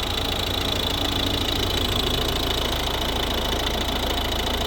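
A 2012 Volvo V50 R-Design with a 1.6 D2 diesel engine idling, a steady even clatter with a faint knocking texture, continuous and close with no talk.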